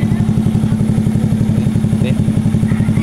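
A motorcycle engine runs close by after an ECU reset, with a fast, even, throbbing putter, loud and steady throughout.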